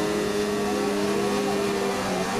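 A Formula 1 car engine in the F1 2019 racing game holds a loud, steady high-pitched drone that climbs slightly, with no talk over it.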